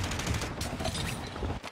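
Rapid automatic gunfire from an FTAC Ripper 56 with a 60-round magazine in Fortnite, a dense, loud, continuous burst filling the whole stretch, briefly dipping near the end.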